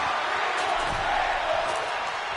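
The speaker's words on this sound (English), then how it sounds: "The crowd yelling, "We want tables."" Wrestling crowd at an indoor event chanting and yelling for tables, a dense, steady roar of many voices filling the arena throughout.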